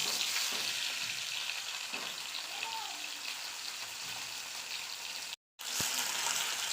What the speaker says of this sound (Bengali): মাছের মাথা আমার ভাজা হয়ে গেছে